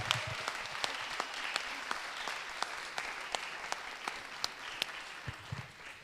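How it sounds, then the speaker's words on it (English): A live audience at a pitch event claps together, a steady patter of many hands with a few sharper individual claps standing out, moderately distant and continuous. "I think we should applaud ourselves"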